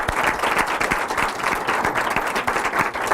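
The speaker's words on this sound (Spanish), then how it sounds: "Un aplauso al doctor" Loud, close applause from an audience at a panel discussion on the 1968 student movement: dense, crisp clapping from many hands, sustained and even throughout.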